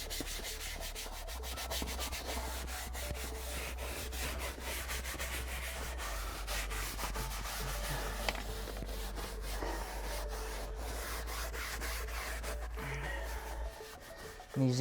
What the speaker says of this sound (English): Now I'm going to take my harder leather brush, my stiffer leather brush, and just